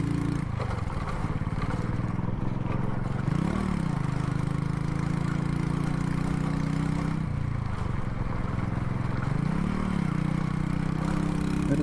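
A motorcycle engine runs steadily close by, humming at idle with a couple of short throttle rises and falls, and no one speaks.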